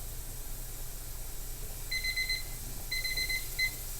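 A kitchen timer beeps in two rapid bursts of high electronic tones over a faint steady background hum during pressure canning.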